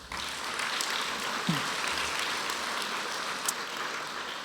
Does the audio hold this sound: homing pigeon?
no